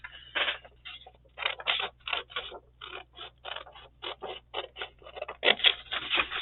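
Scissors snip through paper while cutting out a paper doll, a close, steady run of crisp separate cuts and rustling scrapes with short pauses between them, no voices.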